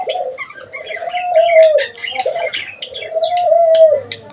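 Budgerigars chatter inside a cage, close and fairly loud. Quick chirps and twittering run over a warbling, coo-like call that repeats twice, with no one speaking.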